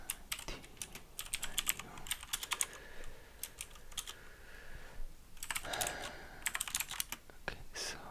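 Rapid, uneven keystrokes on a computer keyboard clatter in close bursts with short pauses between them, and a voice speaks one brief word.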